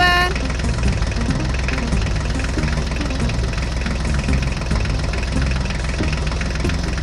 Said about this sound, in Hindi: चलो चलो बच्चों, अब हम ट्रैक्टर गाड़ी को लेकर आगे चलते हैं।